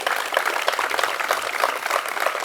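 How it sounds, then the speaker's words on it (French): Applause rises from the audience at a speech, a crowd of hands clapping steadily and densely at moderate loudness for a couple of seconds, with no one speaking over it. "Merci de l'applaudir chaleureusement."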